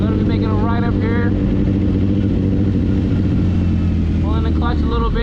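A sportbike engine hums steadily while the motorcycle coasts through a right turn, then rises as the throttle opens again, heavy wind buffeting throughout and a rider talking over it.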